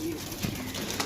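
Pigeons coo softly in short low murmurs over a loud, noisy background outdoors at a bird market.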